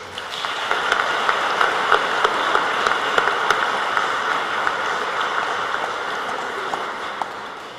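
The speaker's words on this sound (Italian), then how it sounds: "Un applauso per l'Associazione dei Campanari." A crowd applauds the bell ringers' association at a national bell ringers' gathering, a dense, sustained clapping with no pause across the whole stretch.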